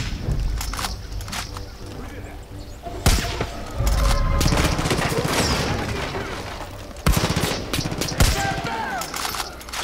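Gunfire in the Far Cry 5 shooter, with several sharp shot bursts standing out over a busy game mix of mechanical clatter and background action.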